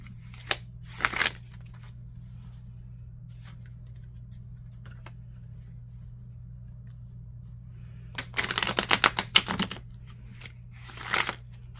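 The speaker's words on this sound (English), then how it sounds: "And I always shuffle these cards 3 times." A tarot deck, the Joie de Vivre, is shuffled in short crisp riffling bursts: one near the start, then a longer cluster of rapid card flicks and a final quick burst, over a low steady hum.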